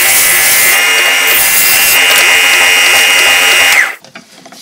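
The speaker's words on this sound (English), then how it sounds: "I'm going to go to the sander now, get this sanded up good and smooth" Belt sander smoothing a wooden jig piece held against the moving belt, a loud continuous abrasive rasp with a steady high whine, pulled away abruptly near the end leaving faint motor rundown.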